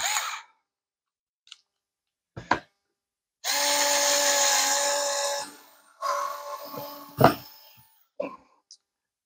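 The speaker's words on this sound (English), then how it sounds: "we're going to try and see if we can drill a hole" A Ryobi FVD50K cordless screwdriver whirs in a sustained burst for about two seconds while drilling a hole, followed by shorter revving bursts and scattered clicks and handling noises.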